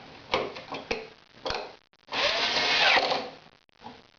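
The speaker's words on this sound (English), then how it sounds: "install the appropriate nut driver on your drill and put it on your clamp" Cordless drill with a nut driver spinning a screw on a clamp, short tapping clicks followed by a sustained whirring burst as the driver runs, then a brief stop, fairly quiet and close.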